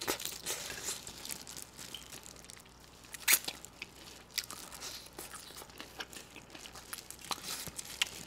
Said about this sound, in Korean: 후라이드만 먹으면 물릴 때 이렇게 양념 찍어가지고 먹어주면 정말 바삭하니 좋아요